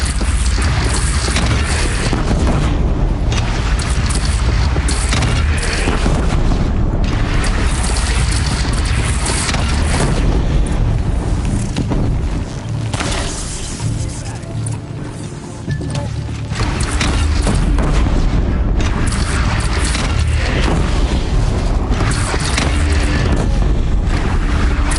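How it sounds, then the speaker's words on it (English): Loud, dense battle noise from the game Horizon Zero Dawn, with heavy booming cannon fire and mechanical clatter sustained throughout, briefly easing in the middle before surging back. "They only have one cannon!"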